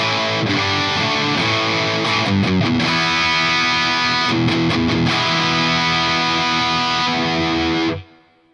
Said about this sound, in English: So bridge pickup with distortion.